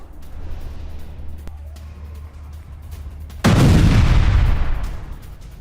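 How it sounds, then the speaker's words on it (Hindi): Explosion from an attack on a residential area in Lebanon, heard as a single heavy boom and rumbling roar that bursts in midway over a steady low hum, then slowly fades; no speech. "रिहायशी इलाकों में किया गया बारूदी प्रहार।"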